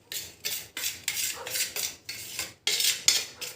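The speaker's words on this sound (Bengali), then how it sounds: "দিয়ে সব উপকরণগুলো কিন্তু ভালো করে আমি মিশিয়ে নেব।" A spoon clinks and scrapes around a bowl as salt and detergent powder are stirred together, with repeated close, bright metallic strokes in a steady rhythm and no voices.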